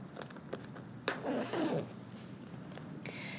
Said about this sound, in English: And I'm gonna open my zipper up.